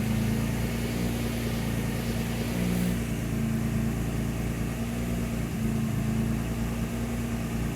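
A turbocharged 3800 V6 in a Buick Regal GSX idling steadily just after its first start, running slightly rich, a close, continuous low engine hum with a slight rhythmic waver.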